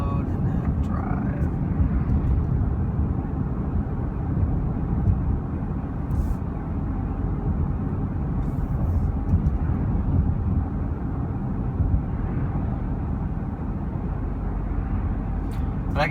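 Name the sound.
2016 Audi Q5 2.0T driving in sport mode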